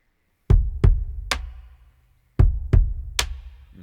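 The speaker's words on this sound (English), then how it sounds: "So it creates this tail on the bass drum." Bass drum hits in a kick pattern with the high-pass EQ bypassed on the reverb bus, three thumps, a pause, then three more, each leaving a low booming reverb tail.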